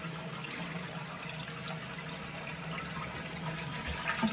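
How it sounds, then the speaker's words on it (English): Water runs steadily into a toilet tank as it refills after a flush in an old single-wide mobile home, a low, constant rushing hiss that stays level throughout. "I can hear the water coming through to fill up the toilet"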